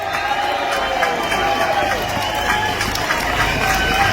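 Rally audience at a campaign event applauding steadily, a dense sustained wash of clapping with a crowd murmur, fairly loud and continuous throughout.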